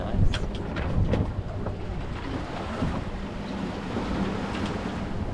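Ocean waves wash steadily against a sailing boat under way at sea off the Spanish coast near Camariñas, a continuous rushing hiss with a few sharper slaps and wind noise over the microphone.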